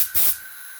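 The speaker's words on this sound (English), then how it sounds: "then you just go over the top with stone chip, which comes out of this lovely spray gun" A spray gun lays stone chip coating onto a Volksrod chassis, giving one short, loud hissing burst that quickly cuts off, leaving a faint steady hiss behind.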